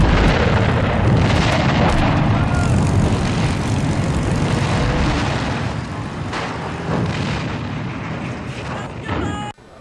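Propeller fighter aircraft roar loudly during a Battle of Britain scramble, a dense close engine drone with rumbling blasts that slowly recedes and thins toward the end.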